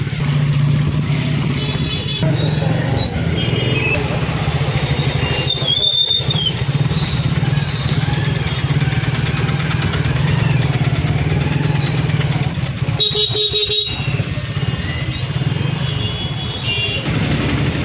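Traffic jam in the rain drones steadily, with engines idling and motorcycles revving nearby. A couple of brief horn-like blasts cut through the constant noise.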